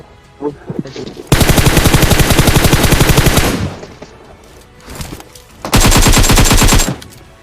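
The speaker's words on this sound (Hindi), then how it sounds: "मैं इतनी देर से स्प्रे दे रहा हूँ कि मेरी M4 की गोलियां खत्म हो जाती हैं" Automatic M4 rifle fire in a mobile battle-royale video game, two long loud sustained bursts of rapid shots separated by a short pause, with faint voice activity in between.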